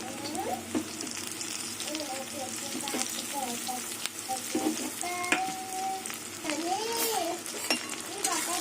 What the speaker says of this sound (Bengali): এবার চিংড়ি মাছ দিয়ে পেঁয়াজ দিয়ে কিছুক্ষণ ভেজে নেবো